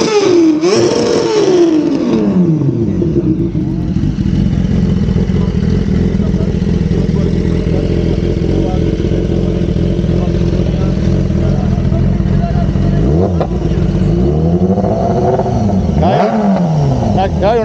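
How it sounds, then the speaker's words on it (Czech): Motorcycles at a moto rally at Balcarka in 2022 are started and revved, a loud continuous engine drone with rising and falling rev sweeps near the start and toward the end, while people talk in the background. "Startuje motorky."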